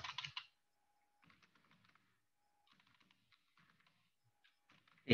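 Someone types on a computer keyboard while working in MS Word, making soft, quiet bursts of keystrokes separated by short pauses, with a louder clack at the start and end.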